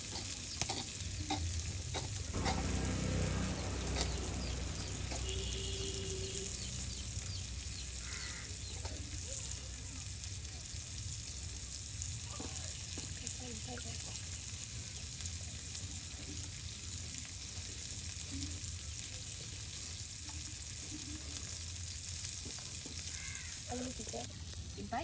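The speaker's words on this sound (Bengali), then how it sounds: "একদিকে মাছ ভাজা হচ্ছে" Pangas fish frying in oil outdoors at the edge of a wetland, a steady close sizzle with occasional stirring that runs the whole time, with faint crow calls in the background.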